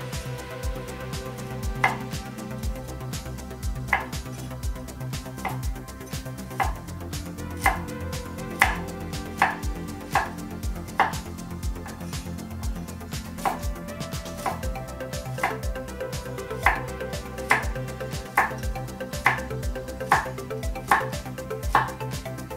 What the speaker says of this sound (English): cut the carrots